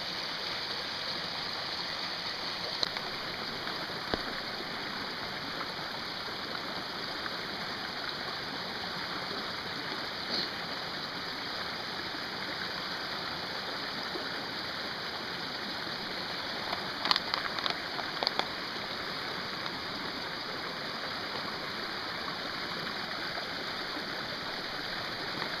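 A small stream serving as a camp water source at a cove on a coastal hike near Aquaforte, giving a steady, even rush of flowing water throughout with a few faint knocks and no talk.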